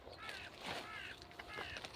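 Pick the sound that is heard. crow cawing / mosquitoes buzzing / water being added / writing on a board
crow cawing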